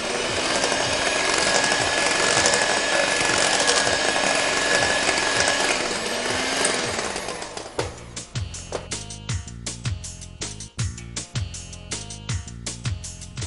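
An electric hand beater mixes flour and baking powder into a batter, first a steady continuous whir, then a choppier stretch of rapid rattling knocks as the beaters strike the bowl.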